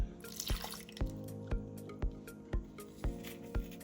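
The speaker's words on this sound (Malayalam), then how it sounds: "പുളിയും കൂടെ ഒഴിച്ചു കൊടുക്കാം" Tamarind water going into a pot of sambar vegetables as close, wet drips and splats landing at a steady rhythm about every half second, with no talking.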